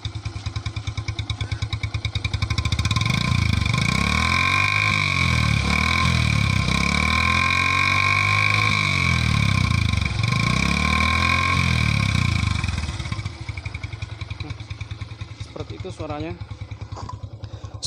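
Yamaha Byson motorcycle with a cut-down exhaust, idling then revved hard several times in rising and falling surges, loud and close, before dropping back to a rough idle.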